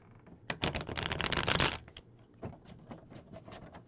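Tarot cards shuffled by hand at a table, a dense papery riffle that builds for about a second, then shorter softer bursts of shuffling, close and fairly quiet.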